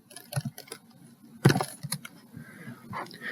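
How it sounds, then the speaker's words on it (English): Keys tapped on a computer keyboard while entering a number into an online number generator, a quick irregular run of clicks with a louder burst of keystrokes near the middle, fairly close and with no voices. "we'll type into this number generator"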